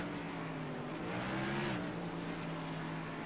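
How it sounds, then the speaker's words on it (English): A race car engine in the iRacing sim revs under caution at Texas, a steady low drone with a rising and falling swell of revs midway, fairly faint and unbroken, no talking. "Know what the 15's doing, revving it up under the pacing."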